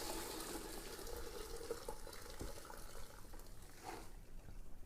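Hot spaghetti cooking water pours through a kitchen strainer into a recycling bin, a faint continuous trickle and splash running steadily throughout.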